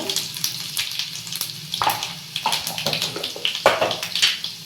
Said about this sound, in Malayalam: നമ്മുടെ കടുകൊക്കെ ഒന്ന് കുത്തി വന്നിട്ടുണ്ട്